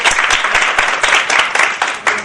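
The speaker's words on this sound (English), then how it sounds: "Clap for the airport branch." An audience at a Montessori school conference claps briskly in brief, dense applause for a branch's results, with a voice faintly underneath.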